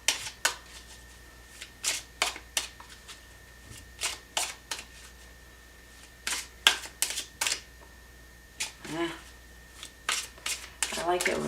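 Tarot cards shuffled by hand to draw a single card, a run of quick papery riffles and snaps in bursts, close and fairly quiet with short pauses between.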